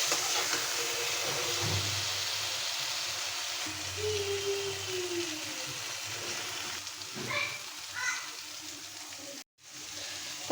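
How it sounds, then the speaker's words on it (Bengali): Onion, green chilli, ginger and garlic frying in a pan for chepa shutki bhorta, a steady sizzle and hiss running throughout with a few brief stirring clinks, close and moderately loud. "একদম ভাজা ভাজা করছি।"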